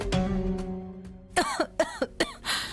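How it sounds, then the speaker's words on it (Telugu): A woman coughs in a short run of about five sharp, harsh bursts after a bitter drink of milk that left her with stomach pain, heard close up following a quiet stretch with a faint sustained tone. "ఏమైందమ్మా అలా దగ్గుతున్నావు"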